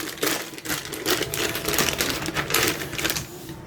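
A new rear shock absorber for a Chevrolet Spin being unboxed: rapid, close crinkling and rustling of packaging with dense clicky scraping, steady and loud throughout, with no talking over it.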